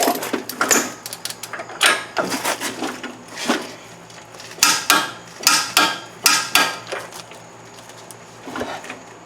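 Wrench work on the CV axle nut of a 2007 Hyundai: a series of sharp metallic clicks and knocks in irregular bursts, close up, with faint background hum.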